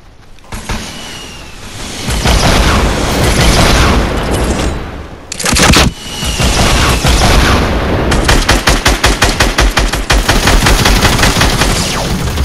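Gunfire in Fortnite Battle Royale duo mode: loud sustained bursts and heavy booms, ending in a rapid rattling automatic volley of close, evenly spaced shots.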